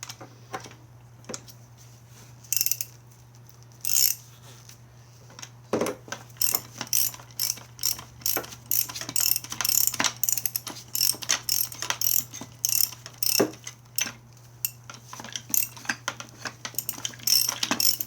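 Ratchet wrench clicking as it tightens a 17mm nylock nut on a spring compressor for a Mazda Miata strut; rapid, close, bright clicks in repeated bursts over a steady low hum, no talk.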